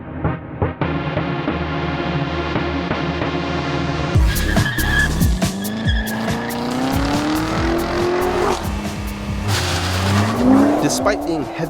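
Nissan GT-R Nismo and Corvette Z06 launching hard, engines rising in pitch through gears with tire squeal and loud revving, continuous and close, a narrator talking over the whole run.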